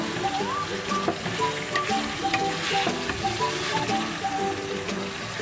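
Onion paste fries in soybean oil for a white chicken korma, a loud, continuous close-up sizzle with bubbling and occasional stirring, no voices over it.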